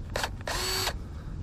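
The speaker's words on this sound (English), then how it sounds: "Let's use our handy dandy drill and secure this guy on here." A power drill driving a screw to secure a plastic sump pipe fitting in a backyard drainage system, two short close whirring bursts, the second longer, with no voices.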